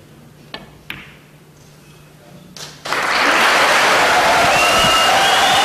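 A few isolated clicks and knocks at a snooker table in a quiet arena, then as the green ball drops the crowd bursts into loud, sustained applause and cheering that holds steady at the 2013 Paul Hunter Classic.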